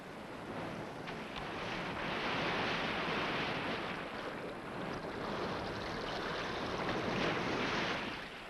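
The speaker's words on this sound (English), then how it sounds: "The Atlantic waves which burst on the North Uist shores have rolled in countless miles from America." Atlantic waves breaking on the North Uist shore make a continuous broad roar of surf that swells and eases in slow surges, with some wind noise and no voices.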